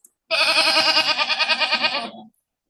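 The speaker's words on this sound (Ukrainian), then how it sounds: "Хто це так мекає? Хто це? Це коза?" A goat lets out one long, loud, wavering bleat close by, its voice trembling rapidly for about two seconds.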